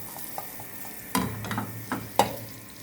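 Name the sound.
butter cube melting and sizzling in a frying pan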